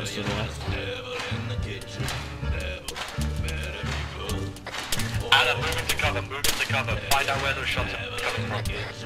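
Gunshots ring out during a squad operation moving through a cluster of buildings: repeated sharp cracks and bursts of gunfire in irregular rhythm, some near and some farther off, heard under ongoing voices.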